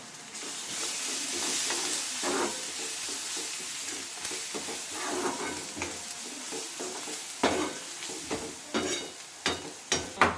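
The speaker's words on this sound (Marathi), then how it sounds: "आता मस्त आता हा परत ढवळून घ्यायचं आहे" Clams (kalwa) in a spiced masala curry being stirred in a pan: a steady sizzle with repeated scraping stirs that grow sharper and more frequent toward the end, close and clear.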